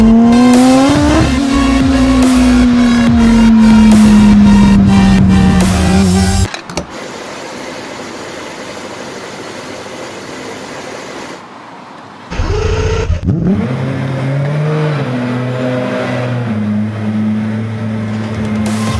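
A loud Aston Martin Vulcan racing car engine revs hard with a rising whine, cuts out abruptly, then fires back up and settles into a deep, rumbling idle.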